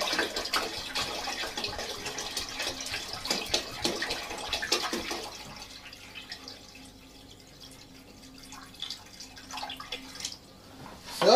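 Clean water pouring into a flask, a splashing, trickling stream for about five seconds that then fades to quieter dripping and faint movement, close by with no talk.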